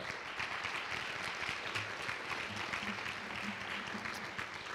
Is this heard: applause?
yes